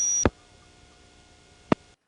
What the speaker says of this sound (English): That is the sound of the automatic number identification B system